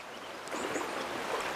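Strong river current rushing past a person wading just below waist depth, a steady broadband wash of flowing water at close range with no talk.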